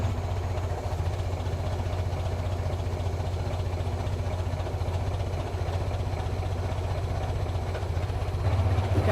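An engine idles down just after being started, a steady low rumble with a faint rhythmic pulse running throughout, with a brief change near the end; a voice is barely present.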